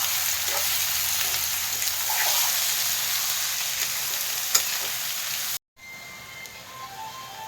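Local chicken and onions fry loudly in a pan, a dense, constant sizzle with a sharp tap near the end before a short break, after which a quieter sizzle resumes.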